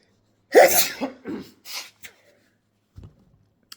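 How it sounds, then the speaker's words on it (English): A loud nose blow in a few forceful bursts, followed by a couple of quieter sniffs and rustles close to the microphone. "I'm going to blow my nose."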